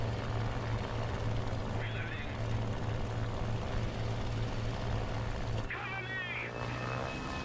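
In the War Thunder game, the engine of a Saab T18B-1 medium bomber drones steadily and loudly with a low buzzing propeller hum that cuts out briefly near the end, while a voice talks over it.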